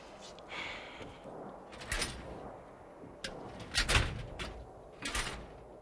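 Drawers of gray steel cabinets being pulled open in a small closet-like room, giving several sharp metallic slides and clunks spaced irregularly, with the louder bangs near the end.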